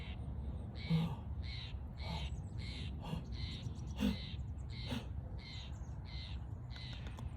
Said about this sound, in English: Oh, the birds.